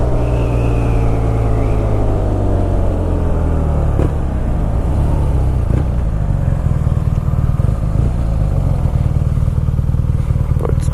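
A BMW R nineT Scrambler motorcycle's boxer engine idles with a deep, throbbing rumble, then is blipped through a few quick revs, loud and close.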